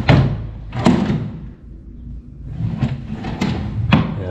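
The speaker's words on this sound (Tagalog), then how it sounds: "Buksan natin yung kanyang mga drawer." Drawers on a newly bought dresser slide open and shut at close range, several scraping glides and wooden thuds spread across a few seconds with a brief pause in between.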